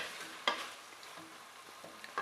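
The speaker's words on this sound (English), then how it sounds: "Give it a little stir." Browning onions in a pot for jollof rice, stirred with a spoon: a soft, close sizzle under a few sharp scraping knocks against the pot, one clear scrape near the start and more toward the end.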